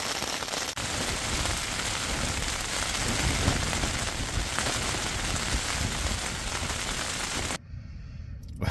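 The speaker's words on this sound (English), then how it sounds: "outside it's rainy, windy, and cold, but I'm warm and dry in my tent" Rain and wind batter the outside of a tent in cold weather, a dense, continuous hiss close by that drops away abruptly near the end.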